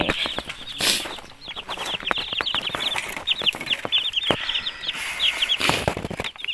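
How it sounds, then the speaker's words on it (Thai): Hens cluck steadily while many chicks cheep in rapid, high-pitched bursts close by, with some rustling and the occasional flap of wings, after rainfall. "นี่นะคะลูกไก่"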